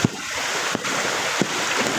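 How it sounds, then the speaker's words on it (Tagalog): Floodwater rushes across a submerged road during a typhoon in Montalban, Rizal, a steady loud wash with wind buffeting the microphone and a few sharp thumps. "Yung agos ng tubig"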